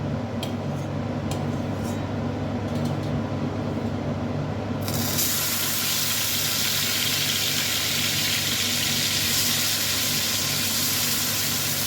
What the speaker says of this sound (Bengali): লবণ আর হলুদ মাখানো চিংড়ি মাছটা এবার আমি